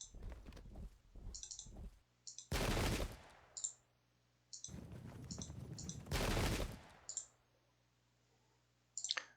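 Musket volleys crack in Pike and Shot as clusters of sharp shots, then two long rolling bursts of massed gunfire, each broken up by quiet gaps and small interface clicks.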